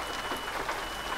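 Rain falls on a truck during a UK drive in the Euro Truck Simulator 2 video game, a faint, steady hiss of drops lasting about a second.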